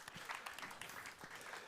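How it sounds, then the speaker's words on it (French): A theatre gala audience claps briefly, a faint, distant patter of applause with no voices over it. "Vous pouvez l'applaudir, Louis"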